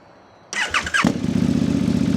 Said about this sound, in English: Oh, I almost forgot to do a startup for you guys.